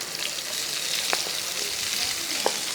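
Chopped onions sizzle and crackle steadily in a hot pan, with a few brief clinks of a stirring spoon.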